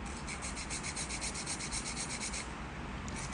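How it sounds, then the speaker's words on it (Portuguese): A nail file rasping back and forth across a fingernail, a fast even rubbing rhythm that runs continuously and close up, with no voices. "Vou começar aqui o meu lixamento."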